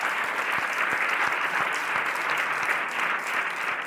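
Sustained applause from a live audience at a talk, dense steady clapping with a few sharper claps standing out, holding at an even level throughout.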